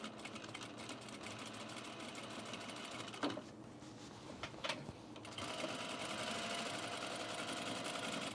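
A sewing machine sews an unlined blazer in a quiet, continuous whirring run, briefly easing with a couple of small clicks midway before picking up again slightly louder, with no talking.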